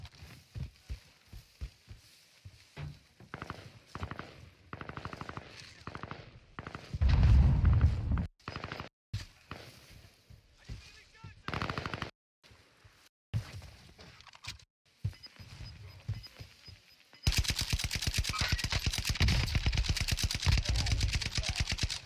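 Bursts of gunfire and impacts in a shooter video game, with sharp cuts and quiet gaps, building into a sustained loud barrage of automatic fire at the end.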